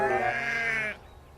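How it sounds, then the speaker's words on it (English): A sheep on railway tracks in the Trainz train game gives a single loud, close bleat lasting under a second, followed by quiet. "There were sheep on the tracks."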